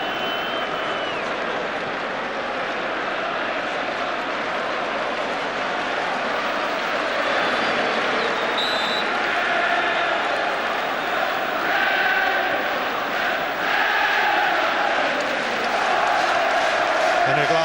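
A football crowd at Dunfermline v Celtic applauds Henrik Larsson, a broad, sustained wash of clapping and crowd noise from a distant stand, with commentary talking over it.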